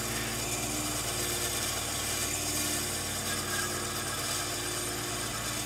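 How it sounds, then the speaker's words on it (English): An old, well-worn box-store bandsaw runs steadily with a constant motor hum and faint whirring blade, loud and unbroken with no pauses, alone without voices. "Box store special bandsaw has got a lot of miles on it."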